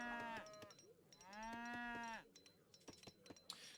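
Fulani cattle in the strategy game Age of Empires III low with two loud, drawn-out calls, the second longer and swelling, followed by a few faint clicks and taps.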